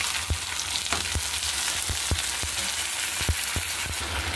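Ground ginger, cumin and green chilli paste fries in a hot pan with a constant loud sizzle, punctuated by regular sharp clicks from a spoon stirring against the pan.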